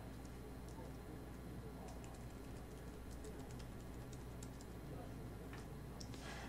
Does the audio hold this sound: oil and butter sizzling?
no